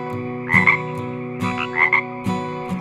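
A frog croaks in three rhythmic bursts about a second apart, each a loud, rasping double pulse, set against a steady tonal backing that carries on underneath.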